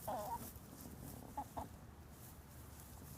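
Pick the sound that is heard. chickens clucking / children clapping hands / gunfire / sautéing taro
chickens clucking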